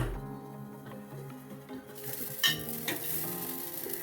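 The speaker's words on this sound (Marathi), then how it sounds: "कढई गरम झालेली आहे, त्याच्यामध्ये थोडा असा राजगिरा घालायचा" Amaranth seeds hitting a hot wok: a soft stirring scrape gives way after about two seconds to bright, sharp popping and sizzling that continues to the end.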